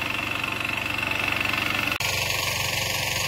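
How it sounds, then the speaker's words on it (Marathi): A farm tractor engine running during rice field ploughing, with a steady low chugging pulse that is briefly cut by a sharp break before the rhythm carries on. "आपला ट्रॅक्टर"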